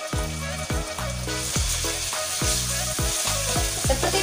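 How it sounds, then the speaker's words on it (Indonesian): Ground spice paste for Betawi chicken soup sautéing in hot oil, a loud, steady sizzle and crackle throughout, with rhythmic plucked background music underneath. "Ayo kita tumis dulu bumbu halusnya ya"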